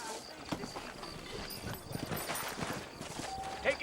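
Horse hooves clip-clop at a steady walking rhythm in the Western video game Red Dead Redemption, set in New Austin, with several horses moving together and other game sounds mixed in.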